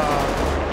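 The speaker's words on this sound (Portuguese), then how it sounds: "Um tiro só pra chamar a atenção dele." A dense burst of gunfire in the GTA 5 roleplay video game, loud and close, filling a brief moment with rapid overlapping shots.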